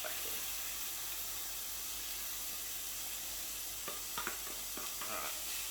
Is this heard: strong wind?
no